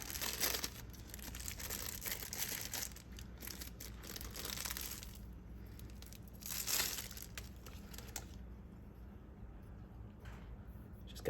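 Plastic wrapping crinkles and crackles as it is peeled off a fixed-blade knife with a CPM D2 steel blade and G10 scales, a steady close rustle with a few louder crumpling bursts throughout.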